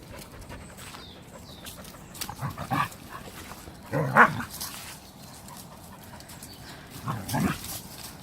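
A dog gives a few short barks and yelps at another dog during a morning walk, in three separated bursts near 2.5, 4 and 7 seconds over a steady outdoor background, with panting in between.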